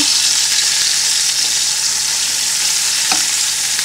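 Pork chops fry golden brown in a pan with a loud, steady, close sizzle throughout, broken only by one faint click near the end.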